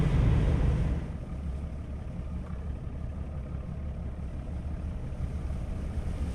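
A boat engine in Fishing: North Atlantic runs with the throttle eased slightly forward, making a continuous low rumbling drone with a washy wind and water layer, a little louder at the start and then steady.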